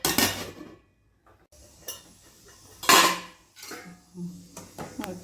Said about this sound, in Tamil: இப்போ இதை மூடி போட்டு வேக வச்சுக்கலாம்